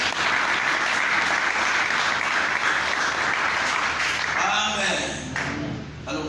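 Church congregation applauding during a French-language sermon, a dense, steady wash of clapping that holds loud for several seconds, then thins and fades toward the end with voices and cheers rising through it.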